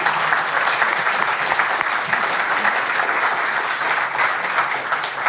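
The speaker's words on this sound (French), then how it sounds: "des applaudissements en soutien à la rédaction du JDD" Sustained, dense applause from a crowd backing the JDD newsroom, steady and fairly loud throughout with no voices standing out.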